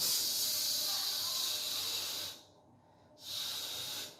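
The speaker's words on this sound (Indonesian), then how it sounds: "Setelah itu kemudian kita pencet nomor 2. Apar akan keluar." Fire extinguisher sprays after its lever is pressed, a steady loud hiss that drops off briefly before starting again.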